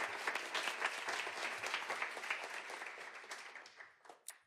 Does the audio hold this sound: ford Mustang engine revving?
no